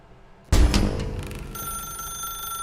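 Telephone ringing in the video game The Stanley Parable, a sudden loud burst of electronic bell ringing that starts after a quiet moment and continues with a steady tonal ring.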